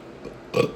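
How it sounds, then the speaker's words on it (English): A single short burp, close and fairly soft, rising briefly out of a quiet room with no talking. "Sorry for burping."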